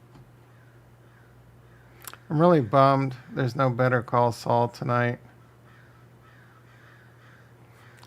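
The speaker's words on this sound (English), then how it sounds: "Freaking crows outside going crazy." Crows caw in a burst of harsh, repeated calls outdoors, mixed in with a man's speech over a steady low hum, then the noise fades back to quiet room tone.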